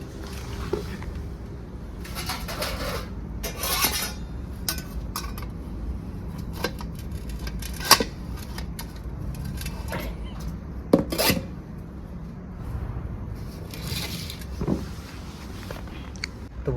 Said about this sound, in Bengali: প্রথমে কড়াইটা নামিয়ে দেবো।